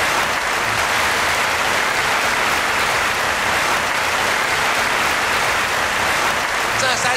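A large hall audience at the 30th-anniversary celebration of the I-Kuan Tao association in Taichung's Huisun Hall gives sustained, thick applause, a steady roar of clapping that holds at full strength throughout.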